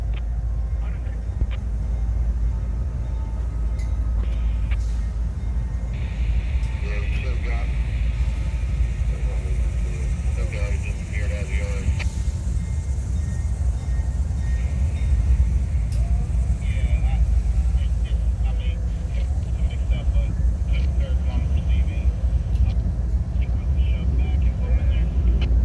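A long CSX intermodal freight train with five locomotives rolls past on the Keystone Subdivision, a heavy, steady low rumble that never lets up, and voices talk faintly over it.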